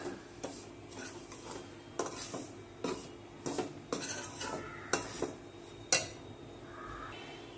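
Rice flour being stirred and roasted in a pan over low heat, with a regular series of scraping and tapping strokes of a utensil against the metal over a faint background hiss.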